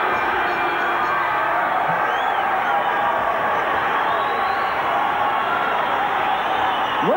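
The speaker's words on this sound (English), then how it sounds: "Listen to the crowd at the San Jose Civic Auditorium." A large crowd at the San Jose Civic Auditorium roars steadily through a boxing bout, a continuous loud wash of cheering and shouting, with a commentator's voice faintly under it.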